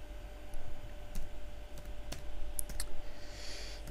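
Keys tapped on a computer keyboard to enter the word imprimer while setting up a print macro, a few scattered clicks with short pauses between them, close but quiet, with no voice.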